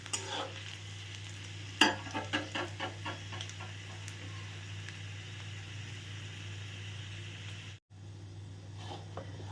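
Bengali five-spice seeds crackle and sizzle in hot oil with a steady hiss, punctuated early by a quick run of sharp pops and scraping stirs.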